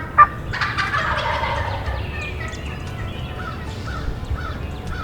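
Wild turkey gobblers gobble in a stand of timber, several calls ringing out one after another at moderate distance over steady woodland ambience, without talk.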